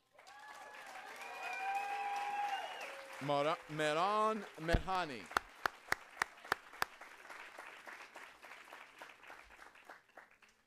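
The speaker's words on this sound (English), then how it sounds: "Another big round of applause." Audience applause at the ADCOLOR 2014 awards for Miss ADCOLOR 2014, Maron Mehani: a voice calls out over steady crowd noise, then a few sharp, separate claps ring out before a soft, diffuse hush of clapping lingers.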